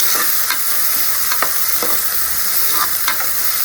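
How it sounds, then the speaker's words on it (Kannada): Three onions frying in oil in a pan for a wedding-style gunda brinjal dish give off a steady, bright sizzle, broken by a few soft clicks of stirring. There is no talk. "ನಾನು 3 ಗಡ್ಡೆ ಈರುಳ್ಳಿ ಹಾಕ್ಕೊಂಡಿದ್ದೀನಿ. ಫ್ರೈ ಆಗಬೇಕು ಅಂತೀನಿ."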